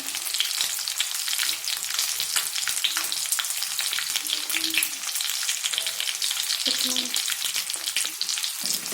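Turmeric, cumin and coriander powder fry with dal in a hot pan, a dense, loud, continuous sizzle broken by the scrape and clatter of a spoon stirring, with no one talking.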